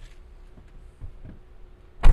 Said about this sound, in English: now watch what happens when he gets in the car and closes the door.